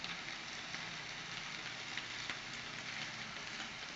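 A chicken quesadilla searing in a pan gives off a faint, even sizzle, a steady hiss with tiny scattered crackles and no speech.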